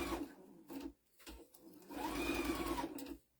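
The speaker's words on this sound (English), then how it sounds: "I'm just going to sew it like just on the edge" A sewing machine stitching along the edge of a zipper bookmark, heard close in short whirring runs: a brief burst, a pause, then a longer steady run before it stops.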